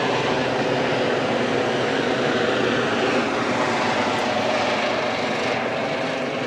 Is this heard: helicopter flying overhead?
yes